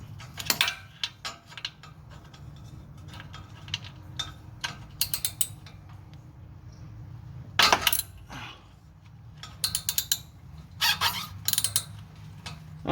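A ratchet wrench clicks in short bursts as a tight 17 mm bolt is worked loose on the transmission of a 2006-2011 BMW 328i, with sharp metallic ratcheting, a few louder clunks and quiet gaps between strokes.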